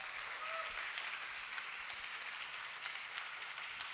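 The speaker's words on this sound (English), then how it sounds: "Let's give them a big round of applause." Hall audience giving a steady round of applause for finalists at a teacher prize award ceremony, continuous moderate clapping heard from within the crowd.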